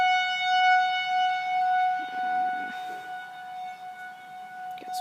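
Tornado warning siren in Gurley, Alabama, sounding outdoors as a steady wailing tone across the whole stretch, with faint neighborhood background noise beneath it.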